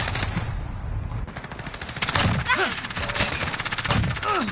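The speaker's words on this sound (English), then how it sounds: "It's a machine gun." Rapid machine gun bursts from the video game Call of Duty: Modern Warfare, loud and close, firing in quick repeated volleys with brief pauses, while a player's voice talks over the gunfire.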